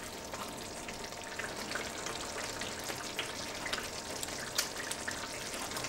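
Chicken kofta curry simmers in a pan, giving a soft, steady bubbling and light sizzle with tiny pops, faint and even from start to end.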